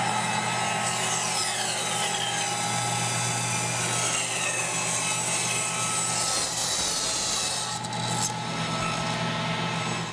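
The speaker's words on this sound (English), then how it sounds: "To bevel the edges, I tilt the table saw blade to 45 degrees and cut each piece into an octagon shape." A tilted table saw blade bevels wood pieces into octagon shapes, giving a steady loud whining roar with cutting tones that shift midway, continuous and close.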